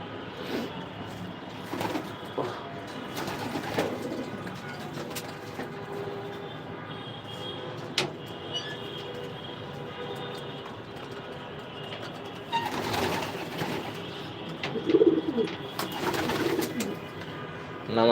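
Pigeons in a racing loft cooing repeatedly at a moderate distance, soft throaty calls recurring over a steady low background, with a few louder bursts toward the end.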